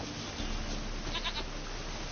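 A goat bleats in a PS4 video game, a few short, faint bleats near the middle over a steady wash of game background noise, with no talking.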